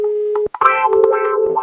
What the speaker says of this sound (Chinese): 老东西敢挂老子电话！